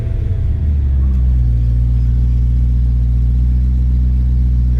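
A BMW E93 convertible's 3.9 liter V8 idles with a loud, steady, deep rumble after a brief initial surge, close and unbroken with no talk.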